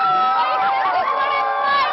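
A packed street crowd in Seattle's Pioneer Square cheers and shouts after a Super Bowl win, a loud, continuous roar of overlapping voices and whoops close around.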